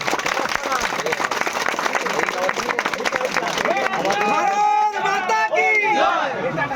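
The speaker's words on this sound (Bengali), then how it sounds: "আমরা কোনদিন সবাই করতালি দিয়ে একটু অভিনন্দন জানাবেন" An audience at a BJP political gathering about flood relief in Ghatal claps and cheers in a dense, crackling wave of applause, giving way to a crowd murmur and a voice speaking over it.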